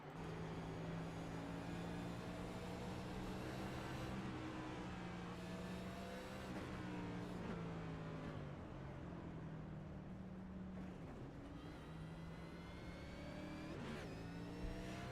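An onboard race car engine in an iRacing Winston Next Gen Series race at New Hampshire Speedway drones steadily and loud. Its pitch rises and falls through the turns, with other cars faintly audible around it.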